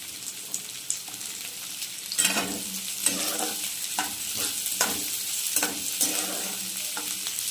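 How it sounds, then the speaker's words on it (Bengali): Capsicum fries in a pan while chilli chicken is being made, a continuous close sizzle broken by repeated stirring scrapes of a spatula, with no talking. "দেখো একটু ভালো করে ভেজে নেব।"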